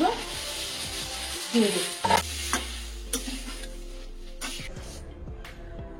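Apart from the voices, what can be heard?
chicken pieces sizzling and stirred in a wok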